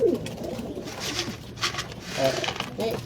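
Pigeons coo softly in short bursts amid outdoor background noise, with faint voices talking nearby.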